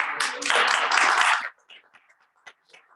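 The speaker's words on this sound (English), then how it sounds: "oh yeah, it's okay, we can clap" A small audience at a Rotary Club meeting breaks into brief, dense clapping for a birthday, lasting about a second before fading to scattered claps and murmuring voices.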